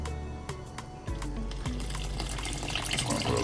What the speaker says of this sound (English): we're gonna add our water, salt water in here